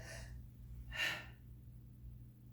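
A person demonstrates a sharp, anxious upper-chest inhale, one quick audible gasp of breath in near a quiet room, preceded by a softer breathy exhale.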